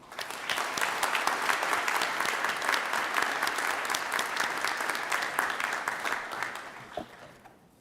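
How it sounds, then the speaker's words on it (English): A graduation ceremony audience at Queen's University Belfast applauds steadily and fully for about seven seconds before the clapping tapers off. "please join me in a round of applause in her absence"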